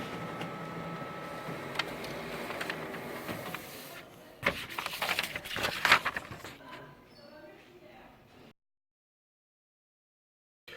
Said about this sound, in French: Le bon de préparation arrive sur l'imprimante.